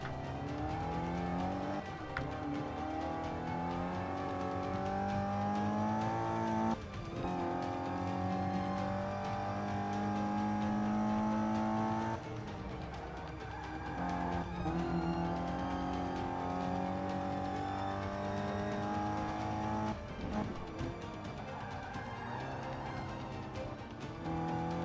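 A race car in Forza 5 driven with manual gears, its engine droning and climbing in pitch through each gear, with sharp drops at upshifts every few seconds while cornering, loud and continuous.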